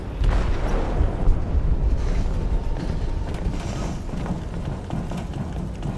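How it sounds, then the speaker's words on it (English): Explosive detonated in a ship's hold in the video game Detroit: Become Human, a deep sustained rumbling roar with low thuds that continues steadily throughout. "They detonated an explosive in the hold."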